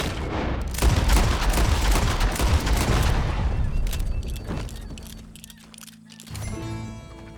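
Gunfire in Red Dead Redemption II while hunting a lion: a dense, loud volley of shots fills the first few seconds, then thins to scattered cracks and a low lingering rumble, ending with a brief ringing tone.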